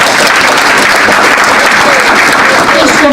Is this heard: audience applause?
yes